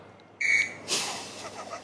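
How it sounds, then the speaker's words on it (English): A single short, shrill whistle blast is blown as a signal during a group exercise, loud and close, followed by a brief voice. "Follow the whistle. One whistle, one action."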